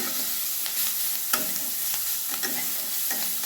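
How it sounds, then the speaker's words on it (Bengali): Ginger garlic paste fries in a pan with a soft, continuous sizzle, broken by a few light stirring scrapes, fairly quiet and close. "আর একটু ভেজে নেব যতক্ষণ কাঁচা গন্ধ চলে যায়"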